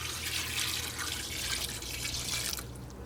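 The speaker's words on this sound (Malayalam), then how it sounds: "അപ്പോൾ ഇതിലേക്ക് നമുക്ക് കുറച്ച് വെള്ളം ഒഴിക്കാം" Water poured into a pot of Kerala-style beef curry, a continuous close splashing trickle that runs for a few seconds before stopping, with a low steady hum underneath.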